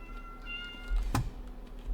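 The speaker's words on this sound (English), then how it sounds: "Damn, we got a few cats." Several cats meow in a snowy town in Skyrim, with a single short, clear meow standing out over a faint in-game ambience and a few soft tonal sounds.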